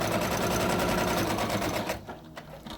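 A sewing machine runs steadily, stitching fabric for a sunglasses case with a fast, even mechanical whir for about two seconds before stopping, leaving faint clicks.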